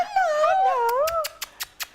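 A puppy whimpers and whines in a high, wavering cry, followed by a few short sharp yips, close and fairly quiet.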